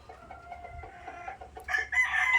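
Chickens clucking softly at close range, then a louder hen cackles and squawks near the end; no talking.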